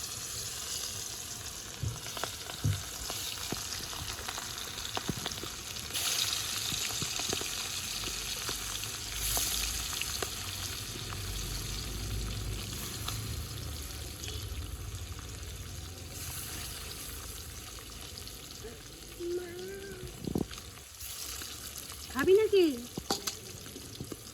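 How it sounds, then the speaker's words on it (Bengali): Hilsa fish pieces fry in hot oil in a pan, a strong, continuous close sizzle with occasional stirring clatter, ending with brief faint tonal sounds over the hiss. "এবার মাছগুলোকে আমি ভেজে নেব এক এক করে মাছগুলো সব তেলের মধ্যে ছেড়ে দেবো"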